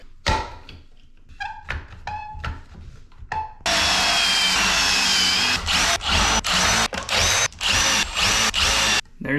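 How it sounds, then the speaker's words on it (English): A power drill whines loudly and steadily, boring pocket holes in wood through a jig, with several short start-stop bursts at first, then long continuous runs broken by brief pauses. "Drill bit."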